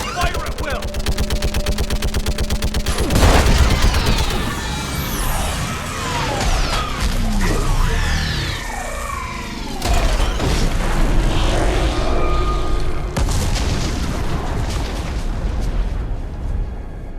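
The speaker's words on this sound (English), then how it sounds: "I need an orbital strike. We're clear! Fire at will!" An orbital strike firing at a living Reaper in Mass Effect 3, with heavy booms, crashing impacts and whooshing energy sweeps over a loud battle, layered with shouted speech and mechanical rumbling.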